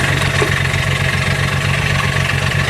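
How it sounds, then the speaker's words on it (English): An outboard-style boat engine running on the Chester River during trotline crabbing, a loud, steady throbbing drone with a regular low pulse and constant vibration, alone without talk. "My engine's running, it almost acts like it wants to cut out on me, but now it's not doing it."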